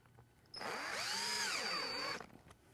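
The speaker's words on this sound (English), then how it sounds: "now we're going to attach the dome to the flashing with these 4 little stainless steel screws" A power drill drives small stainless steel screws through a skylight dome into its roof flashing, one continuous whirring run of about a second and a half that rises and falls in pitch, fairly quiet and alone.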